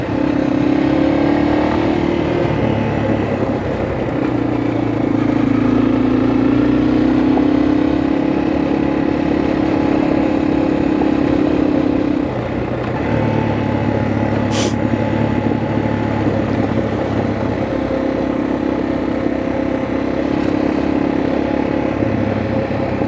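A motorcycle engine drones steadily while the bike rides through gravelly dirt turns along a creek road, its pitch dipping and rising as the throttle eases and returns.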